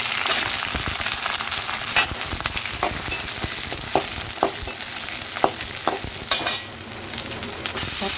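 Onion, garlic and tomato fry and sizzle steadily in a pan, a continuous hiss marked by sharp clacks of stirring at irregular intervals, close and fairly loud with no voices.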